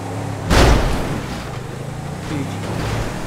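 A car slams into a heavy truck in a driving video game, one loud booming impact followed by a lingering rumble of engine and game noise.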